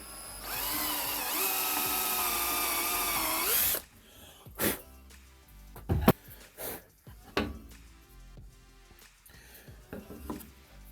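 Power drill boring a small guide hole into plywood, a steady high whine for a few seconds that stops abruptly, followed by scattered clunks and handling knocks.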